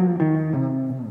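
A guitar loop breakdown in a Two Feet style electronic track: sustained, twangy guitar notes stepping downward in pitch, clear and upfront, with no voices.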